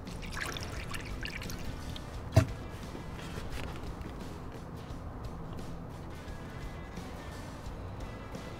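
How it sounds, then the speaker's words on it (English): Pre-mixed DexCool coolant pours through a funnel into a Chevy Impala cooling system, a faint, steady trickle under low background noise, broken once by a single sharp knock. "Now we insert a funnel, and then we're gonna start pouring in our coolant"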